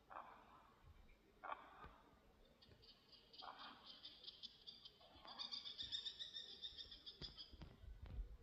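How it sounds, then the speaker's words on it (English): Birds call at night near a Roman tomb, sharp chirping bursts that repeat and overlap in a squabbling flurry, faint and distant against a quiet background. "Some kind of bird war going on over there."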